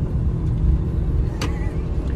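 A steady, low car engine rumble that sounds like a tractor runs throughout, with a brief sharper rasp near the middle.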